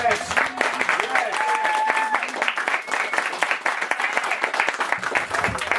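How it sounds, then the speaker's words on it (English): Lively audience applause for a comedian at a fringe comedy event, dense steady clapping with shouts and voices mixed in throughout. "Give him another round of applause."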